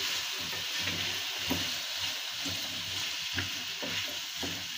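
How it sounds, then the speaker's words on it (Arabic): Vegetables and onion fry in a pan for a red lentil and vegetable soup, giving a steady close sizzle and crackle with occasional light stirring sounds and no talk. "هنا غنخلي هاد الخضار حتى تشحر مع البصلة"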